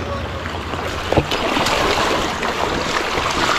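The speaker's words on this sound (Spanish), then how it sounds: "voy a cruzar el río unas cuantas veces." A mountain bike crosses a river on a trail near Riópar, with a continuous rushing wash of splashing, churning water and a few sharper knocks, loud and close throughout.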